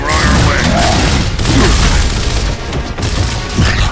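Heavy gunfire in Gears of War on Xbox 360, a loud, continuous barrage of booming shots and crashing impacts that fills the whole stretch without letup.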